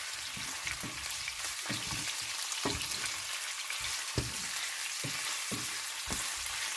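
King prawns sizzle steadily in a hot pan with other ingredients, broadband frying hiss throughout and repeated sharp scrapes and clacks as the mixture is stirred, close and continuous with no talking.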